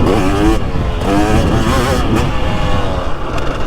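A 2023 Husqvarna TX300 two-stroke dirt bike with WP Pro Components suspension on the Vintage Days moto track, engine revving hard and close with quick throttle swells and shifts throughout.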